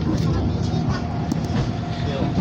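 A tram rolls along its rails with a steady rumbling, rattling drone heard from on board, fairly loud, with faint clicks and a little background talk.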